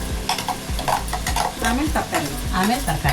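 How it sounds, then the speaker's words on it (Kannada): Onions fry for a pulav, a close, steady sizzle broken by quick spoon scrapes against the pan as they are stirred, with a brief spoken phrase. "ಈ ಥರ ಈರುಳ್ಳಿ ಫುಲ್ಲು ಫ್ರೈ ಆಗಬೇಕು"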